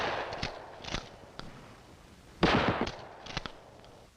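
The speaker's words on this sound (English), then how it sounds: "Hip firing is used at close range, where most confrontations do occur." Shotgun hip-fired at close range, a few sharp reports with one louder blast near the middle, spaced irregularly over a quiet background.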